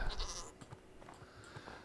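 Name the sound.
goats bleating in the video game Minecraft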